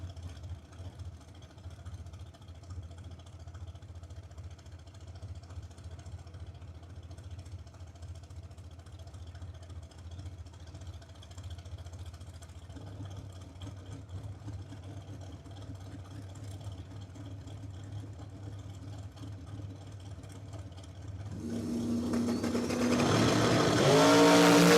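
A turbocharged dragster at a drag strip, heard as a steady low engine drone for most of the time, then swelling sharply into a loud, roaring launch near the end.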